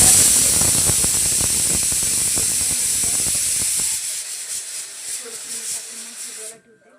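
Tap water runs steadily while rice is rinsed by hand, a broad hiss with scattered splashes and clinks for about four seconds before fading to quieter trickles and stopping near the end.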